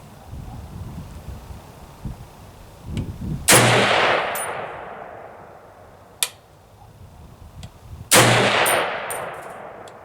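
An M1A rifle fires 7.62 NATO rounds from a stainless steel CMI 20-round magazine outdoors, two loud sharp shots with ringing decay and a few fainter clicks and clanks between them, no voices.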